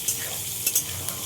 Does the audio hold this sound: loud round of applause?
no